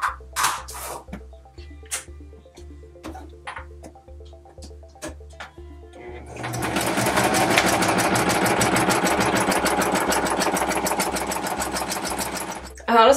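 A sewing machine stitches dragon art doll parts, running in a fast, even, loud whir for the second half after a run of light handling clicks, with a voice heard early on.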